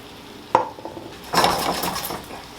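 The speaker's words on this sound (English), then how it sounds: "Like I said, you're going to stir it" Ackee and saltfish being stirred gently in a cooking pot, with a sharp utensil knock against the pot followed by a longer stretch of soft scraping and clinking, moderately close and without talk.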